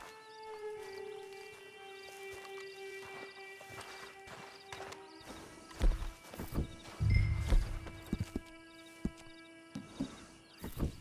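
Horse hooves clip-clop in the video game Red Dead Redemption 2 as loud, uneven thuds in the second half, heard over a soft sustained musical drone.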